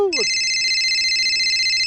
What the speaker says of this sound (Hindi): फोन किसका आ रहा?